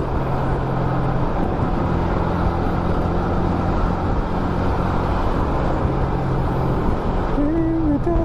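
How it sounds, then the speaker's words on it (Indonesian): Steady roar of heavy trucks passing close on the Pantura coastal highway between Gresik and Lamongan, with wind gusts buffeting throughout; continuous loud road and engine noise with low droning hums, no talk. "Hempasan dari truk kenceng banget men."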